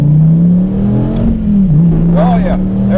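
A 2013 SRT Viper launching hard from a standstill, with a loud, close engine drone holding a steady pitch and then rising under full throttle as a voice cuts in briefly.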